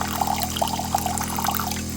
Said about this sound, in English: So here's the galley faucet.